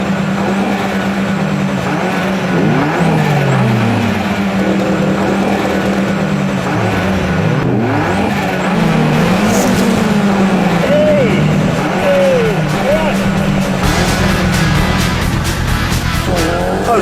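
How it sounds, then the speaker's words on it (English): A Toyota Corolla and other race cars launch off the line at a drag race, with loud continuous engine roar, revving pitch sweeps and tire squeal throughout, crowd or commentary voices mixed underneath. "Holy smoke, look at that Corolla go, man."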